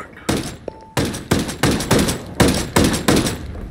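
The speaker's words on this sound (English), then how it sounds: "I hear unsuppressed enemy fire." Enemy gunfire in a multiplayer shooter game: loud, close repeated bursts of shots in a steady rhythm, each burst ringing out with a short gap, preceded by a brief electronic tone.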